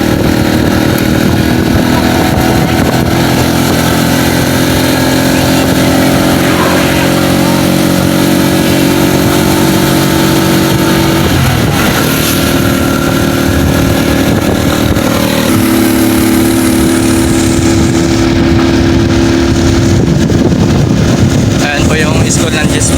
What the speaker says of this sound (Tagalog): Gagamitin po namin yung tricycle nila papuntang Masinloc